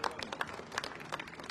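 Crowd applauding and clapping at China's victory parade at Tiananmen, a dense, steady patter of many hands with scattered brighter claps, moderately distant and fairly even throughout.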